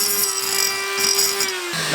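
A power drill boring a hole during a car build, one continuous whine that holds steady and then drops in pitch near the end, loud and close with no speech.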